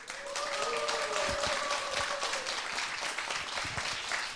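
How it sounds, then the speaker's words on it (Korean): An audience at a poetry talk claps to welcome a guest, a dense wash of applause holding at an even level throughout, with a voice briefly audible beneath it. "여러분 박수로 환영해 주시기 바랍니다"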